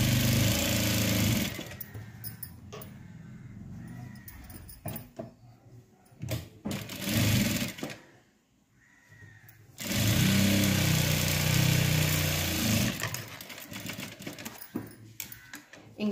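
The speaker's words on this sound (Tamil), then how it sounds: "இப்போ மடிச்சு வச்சு எட்ஜ்ல ஒரு டைம் போட்டுடலாம்." A sewing machine runs stitches along the folded edge of a blouse in bursts of steady whirring, close and fairly loud, with short pauses and one longer break between runs.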